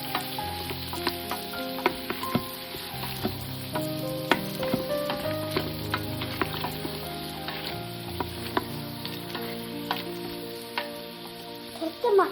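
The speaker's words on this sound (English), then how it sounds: "Add onion and green chili in. You could fry it for a few more minutes." Onion and green chili fry in oil in an Instant Pot, a steady close sizzle with crackles scattered through it, while soft background music plays throughout.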